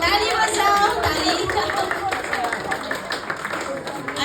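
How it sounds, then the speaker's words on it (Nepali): People clap their hands at a Father's Day gathering in a church, a moderate, uneven patter from a small group that continues for a few seconds, with voices mixed in beneath it. "ताली बजाऊ, ताली।"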